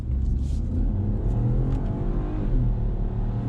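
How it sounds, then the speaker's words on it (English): Inside a 2020 BMW 118i with an automatic gearbox, the small engine hums and builds under acceleration, a steady low drone with a rising pitch, heard from the cabin. "It's a cool little engine."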